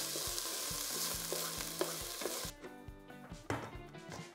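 Cumin, dried thyme and celery sautéing in a pan, a steady bright sizzle with repeated rhythmic stirring scrapes and knocks of the spoon, close and clear, the frying hiss dropping off partway through.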